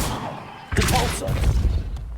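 A Depulso force spell cast in the Hogwarts Legacy video game bursts out as a sudden loud whoosh and thump, followed by a rumbling tail and a fainter second hit.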